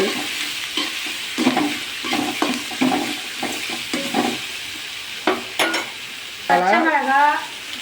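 Green chillies and tomato fry for puri masala, a soft sizzle under repeated scraping stirs of a spoon in the pan, close and moderately loud, ending with a louder burst of hissing.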